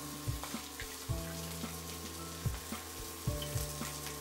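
Prawns wrapped in a leaf sizzling in a hot pan for iral polichal, a quiet steady frying crackle with repeated low knocks and clunks as the parcel is turned.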